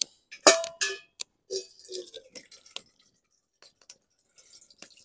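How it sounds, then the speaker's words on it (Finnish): Water is poured into a pot for cooking Buldak noodles outdoors on a twig stove in the forest, with sharp splashes and clinks at first, then softer intermittent trickles and drips, close and fairly quiet. "nyt pistetään vettä tonne noin"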